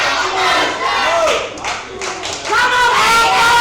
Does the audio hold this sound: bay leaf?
no